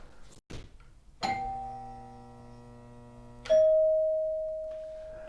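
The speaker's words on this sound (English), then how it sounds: "to ring the bell for Radio Science Brain." Bell rung twice, a ding-dong pair: a bright struck chime with many ringing overtones, then a second clear tone that rings out and slowly decays, close and alone after a brief soft noise.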